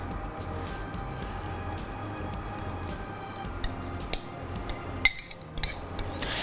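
Fried chicken pulao being served onto a dish, soft scraping and rustling of utensils against the pot with a few sharper clinks near the end, faint and close.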